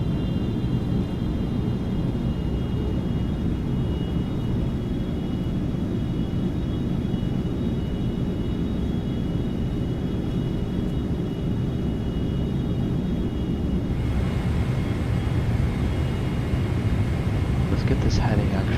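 Steady airliner engine drone inside the cockpit of a FedEx jet in Microsoft Flight Simulator 2024, a constant low rumble throughout with a faint whine above and a small shift in tone near the end, with intermittent talk.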